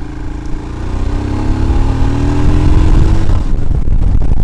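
A Royal Enfield Himalayan motorcycle engine on a test ride, a loud steady thrum that builds as the rider accelerates, with rising engine tones and rushing wind noise.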